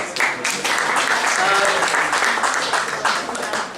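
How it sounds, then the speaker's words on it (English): An audience at a Digital Davos climate tech conference applauds a panel, a dense, steady burst of clapping that lasts the whole few seconds and fades slightly at the end. "Round of applause please for our panel."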